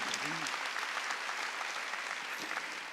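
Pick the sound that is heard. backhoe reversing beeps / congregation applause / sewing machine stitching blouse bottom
congregation applause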